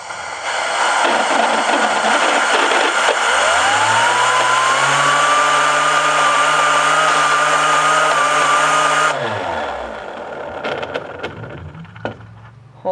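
A homemade 12,000 RPM air turbine fed compressed air at 20 PSI spins up from a hiss to a loud, steady rising whine, holds its pitch for several seconds, then shuts off and winds down, recorded close up.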